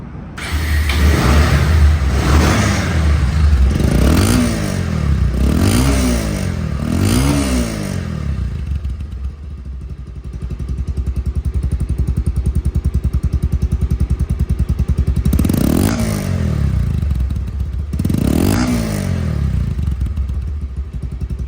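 Bajaj Pulsar double-disc ABS motorcycle engine running at close range, loud and steady, with several sharp revs rising and falling early on and two more throttle blips later, otherwise idling with a constant throb and no talk over it.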